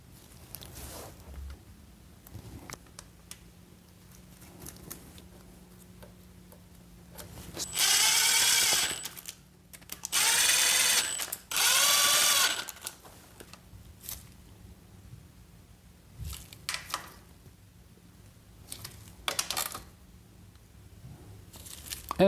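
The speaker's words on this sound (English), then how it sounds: "now we can go ahead and put the 3 remaining bolts on the cover" Bolts are fitted and tightened on the stator cover of a 2006–2007 Suzuki GSX-R 600/750 using a power tool, which gives three short, loud whirring bursts between quiet stretches of faint clicks and handling noises.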